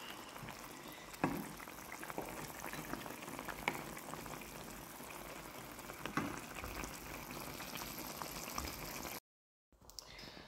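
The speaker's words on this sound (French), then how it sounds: "je laisse mijoter encore 10 minutes" A pot of beef stew simmers quietly with a soft continuous bubbling and occasional small pops, faint and close, briefly cutting out near the end.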